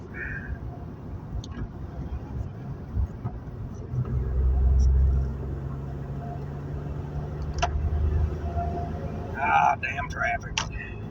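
A car driving slowly in traffic, with a steady low engine rumble that swells for a few seconds midway and passing road noise; someone talks over it.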